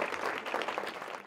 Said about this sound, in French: Je vous invite à l'applaudir haut et fort à toi